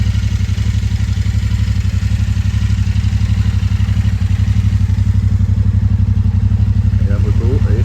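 A fully loaded Royal Enfield motorcycle idles close by with an even, rapid low thumping that holds steady throughout, loud and nearly alone.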